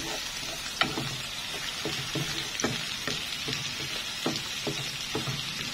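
Onions sizzle steadily in a hot pan as tomatoes go in, with a continuous close frying hiss broken by repeated spatula scrapes and taps.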